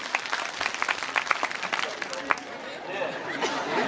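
An audience at a public speech claps in a scattered burst that thins out, with crowd chatter and voices mixed in.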